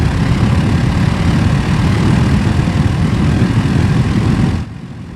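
A 1994 Chevrolet Impala SS with its 5.7 V8 and factory exhaust pulls hard under acceleration, a loud, steady engine drone with little exhaust note that eases off just before the end.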